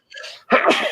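A sneeze bursts out close by in two parts, a short breathy intake followed by a loud explosive release, heard over a relaxed whisky tasting.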